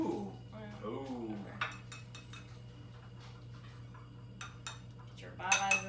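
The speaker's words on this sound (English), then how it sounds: "Well, I'll stir it." Whisky cocktail stirred in a glass, with light clinks and taps of a spoon against glass and ice, scattered bright ticks over steady low background hum, while people talk nearby.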